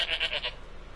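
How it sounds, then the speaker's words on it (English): A goat in the Dora the Explorer: Click & Create PC game bleats in a quick series of about four bright, wavering calls, close and clear, ending after half a second with quiet background. "Goats will eat anything."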